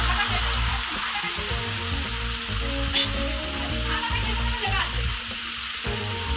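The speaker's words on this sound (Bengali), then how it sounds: "এখানে বৃষ্টি হচ্ছে দেখো সাদা সাদা হয়ে গেছে" Steady rain pours down outdoors as a continuous wash of sound, with a voice talking over it and a low rumble underneath.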